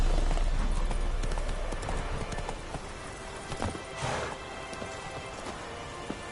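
Roach, Geralt's horse in The Witcher 3, gallops with rapid hoofbeats under a dense wash of outdoor noise, the pounding strongest at first and easing slightly later.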